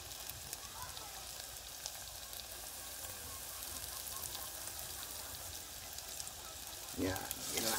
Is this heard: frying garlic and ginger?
yes